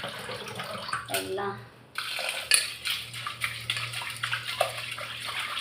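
Lentils sloshed and rinsed in water inside a metal pot during a Tamil home kitchen's sambar preparation, splashing and swirling in uneven bursts with small clinks, as someone talks over it.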